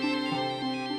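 A mobile phone ringtone plays loud and close for an incoming call, a bright, sustained melodic chime with shifting notes and no voices.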